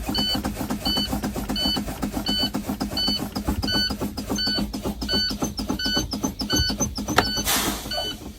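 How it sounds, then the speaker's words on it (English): Air brakes on a truck being fanned from inside the cab during a CDL in-cab check, giving a steady engine idle hum with repeated rhythmic hissing pulses and periodic electronic warning beeps, ending in a burst of air. "so I'm going to continue to fan my brakes."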